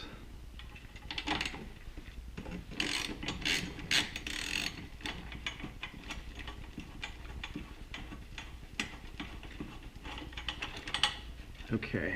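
A ratchet clicks rapidly and repeatedly while removing coil bracket bolts on a Nissan 300ZX engine in a garage, heard close in continuous bursts of ticking, with someone briefly speaking.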